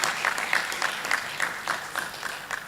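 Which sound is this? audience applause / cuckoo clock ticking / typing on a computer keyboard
audience applause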